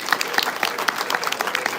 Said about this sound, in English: give a warm welcome and a round of applause to MIG Chairwoman Kristina